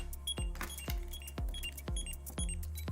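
A Digimon Pendulum Color virtual pet beeps in a steady, repeating pattern of sharp high-pitched chirps, about five evenly spaced bursts, close and fairly quiet.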